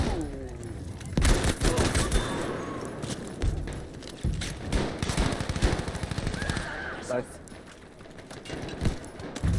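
Shotgun and other gunfire blasting in a Battlefield V match, repeated loud shots in irregular bursts over busy battle noise, with people talking throughout.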